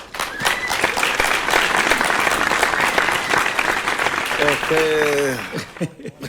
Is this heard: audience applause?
yes